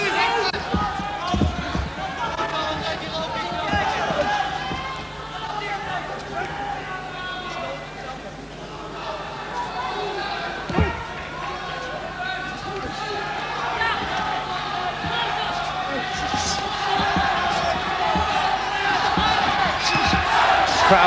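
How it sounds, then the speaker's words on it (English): A crowd at a Holland versus Japan kickfighting bout urges both fighters on, a steady roar of cheering running throughout with occasional sharp thuds of strikes, loud and continuous beneath a commentator's voice. "Crowd here urging both fighters on"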